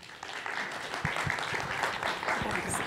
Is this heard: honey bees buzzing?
no